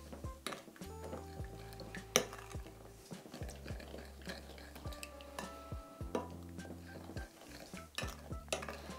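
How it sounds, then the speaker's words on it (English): Spoon stirring sugar into chopped pineapple for homemade jam, repeated scraping and clinking against the bowl in an uneven rhythm, close and fairly quiet, no voices. "Just add our sugar in and give that a good stir around."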